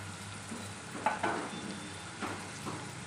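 Onion frying in a pan with salt, a faint, steady sizzle with a few soft stirring scrapes close by.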